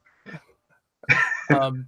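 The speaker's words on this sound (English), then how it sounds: "Sorry, I coughed." A short faint noise, then a loud harsh cough followed by a voiced throaty burst, close to the listener, with no talking.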